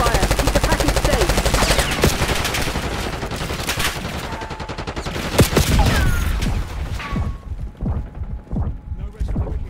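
Rapid gunfire from Call of Duty Black Ops 6, dense automatic bursts with sharp individual shots and mechanical clatter, loud and close, thinning into scattered cracks toward the end.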